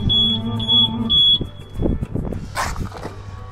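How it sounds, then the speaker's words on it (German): A loud electronic car alarm tone sounds in short pulses from an Audi at a Berlin Tesla Supercharger, then stops abruptly, leaving rustling and handling noises nearby. "Ja, jetzt war gerade der Alarm ausgegangen"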